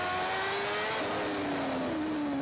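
Onboard sound from a racing motorcycle at the Macau Grand Prix, its engine note dropping as the revs shut off, a steady close mechanical drone sliding lower over a few seconds.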